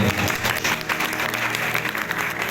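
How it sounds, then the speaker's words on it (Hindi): A church congregation claps to praise the Lord during a sermon, a dense, close, continuous patter of many hands, with a faint musical hum beneath. "ताली बजाकर प्रभु को"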